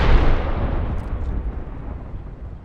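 An Arc Star grenade in Apex Legends goes off with a loud, close burst that rumbles and slowly decays over a couple of seconds, with no voices.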